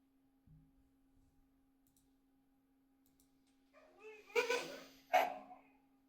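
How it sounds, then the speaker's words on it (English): Dogs bark indoors in two sharp, loud bursts near the end, preceded by a few faint yips and whimpers over a steady electrical hum. "My dogs are extra loud today."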